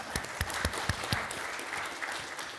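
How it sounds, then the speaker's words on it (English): An audience at a veterans panel event applauds, a brief burst of dense clapping with sharp individual claps that fades after a couple of seconds. "Round of applause for OnDisc."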